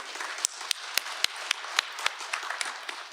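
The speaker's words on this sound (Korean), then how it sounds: "큰 박수로 맞이해 주시기 바랍니다" Audience applause greeting a speaker at a redevelopment briefing for an apartment complex, steady clapping from a crowd with a few sharp, close claps standing out, no talk over it.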